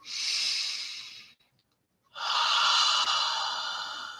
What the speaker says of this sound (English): take another deep and clearing breath